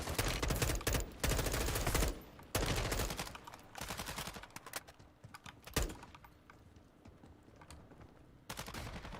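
Rapid video game gunfire comes in dense, loud automatic bursts at first, then thins into scattered, quieter shots with short pauses and a final burst at the end.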